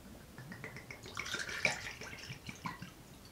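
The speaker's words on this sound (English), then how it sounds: "Kick things off with 2 ounces of our dry gin." Dry gin pours into a cocktail shaker in a faint, quick trickle with light splashing, lasting a few seconds at low volume.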